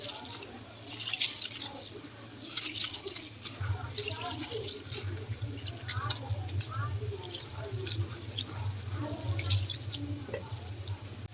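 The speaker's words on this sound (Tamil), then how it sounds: "தண்ணி ஊற்றியாச்சு. அதை நல்லா கழுவிக்கோங்க." Basmati rice is swished and rinsed in water, with wet sloshing, drips and squishy splashes running steadily, and someone speaks over it.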